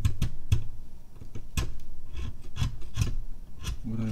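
A carving knife rasps against the edge of a Chinese name seal, rounding it off in quick, close, rhythmic scraping strokes, with short pauses between bursts.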